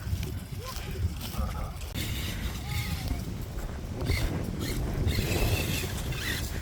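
Gusty wind rumbles against the microphone outdoors near a playground, a continuous low roar with faint voices and small knocks mixed in.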